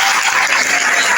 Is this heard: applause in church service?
yes